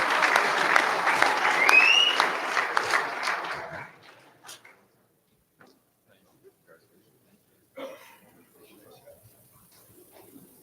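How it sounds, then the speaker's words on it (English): Audience applause at a sports awards ceremony, dense clapping from a crowd for about four seconds that fades to a few scattered claps, followed by quiet room noise and a faint voice. "Round of applause for Josh Leggett"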